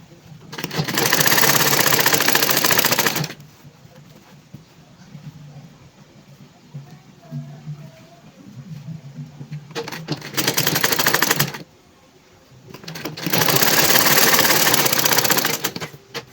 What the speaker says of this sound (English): So just stitch the shoulders together like you did for the first